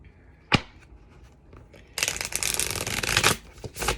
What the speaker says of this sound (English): Get a couple of shuffles here.